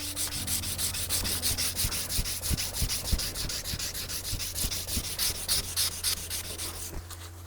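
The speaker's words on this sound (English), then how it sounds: "Then I'm gonna jump up to 320. I'm gonna start sanding all the 220 out in the same direction." A nakiri knife blade is hand sanded with 320 grit paper in quick, rhythmic back-and-forth strokes, a close, dry rasping scrub over a low steady background hum.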